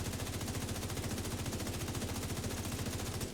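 Sustained automatic fire from an M4 assault rifle in a video game, a dense unbroken stream of rapid shots, loud and close, with no talk over it.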